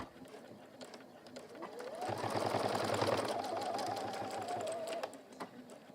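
A sewing machine stitches through cork fabric on a slightly longer stitch length, running as a steady close mechanical whir for about three seconds amid softer handling noises before and after.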